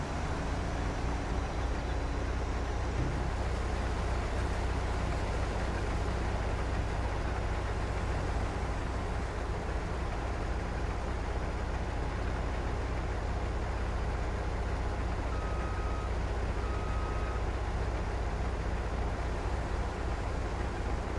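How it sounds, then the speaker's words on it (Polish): Combine harvester cutting wheat in Farming Simulator 22, a steady low engine drone with broad machinery rumble running continuously and evenly throughout, close and unchanging, with no voices. "wracamy do kombajnu i kontynuujemy koszenie pszenicy"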